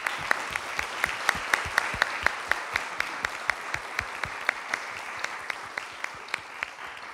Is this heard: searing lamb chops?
no